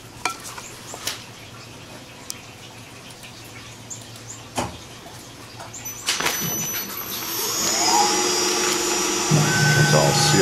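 A Tormach CNC machine starts a run with high flow flood coolant. A few clicks and knocks lead into a rising whir, then a steady hiss and spray of coolant that grows louder and holds to the end.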